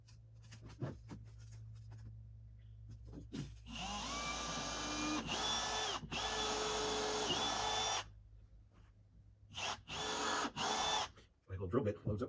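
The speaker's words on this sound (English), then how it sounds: "My little drill bit loads up quite a bit going that far down." Power drill with a 1/8 inch bit boring deep into a front door, whining in sustained bursts with pitch dips as the bit loads up, separated by pauses and quieter handling noise.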